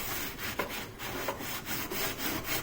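Cleaning paste rubbed by hand onto household buildup, a steady close scrubbing with repeated back-and-forth strokes and no talking.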